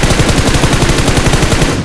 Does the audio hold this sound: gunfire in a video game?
yes